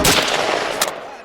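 A single loud gunshot at an outdoor shooting session cracks close by, with its report decaying over about a second.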